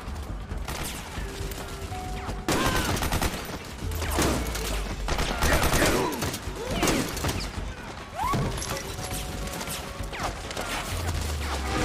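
Repeated gunfire in the PS3 game Metal Gear Solid 4: Guns of the Patriots, with sharp shots and crashes coming in bursts through dense game noise, loud and close.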